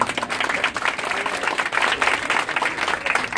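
Concert audience applauding a band member at a memorial event aboard a ferry, a dense steady wash of clapping that carries on for the whole stretch with no pause.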